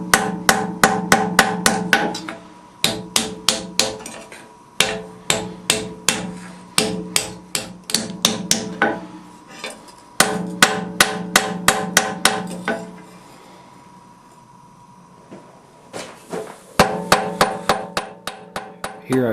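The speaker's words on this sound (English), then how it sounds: "I hammer very carefully to make sure that I don't distort the pin inside the barrel" Rapid rhythmic bursts of metal hammer blows on a hot iron hinge barrel, groups of sharp strikes separated by brief pauses, loud and close.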